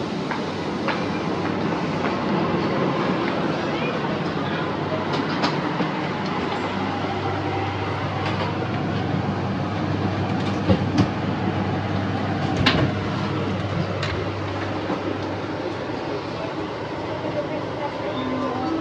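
Driverless automated metro train at Dubai airport, heard from inside the last car as a steady rolling rumble with faint clicks and a brief door-like clatter, continuous and fairly loud throughout.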